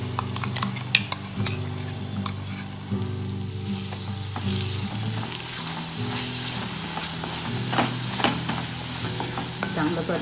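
Onion paste sautéing with spices for rajma masala, a loud steady sizzle that grows brighter partway through, with intermittent spatula scrapes and a low hum underneath, no speech.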